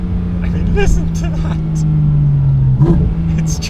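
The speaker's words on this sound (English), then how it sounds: "This has the flywheel from the Cup car. So it has a proper lightweight racing flywheel, which is part of the reason why this car revs so fast." A Porsche GT4 RS with a lightweight Cup-car racing flywheel holds a steady engine note that climbs slightly, loud and close, with someone talking over it.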